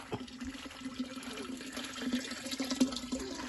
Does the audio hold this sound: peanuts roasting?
no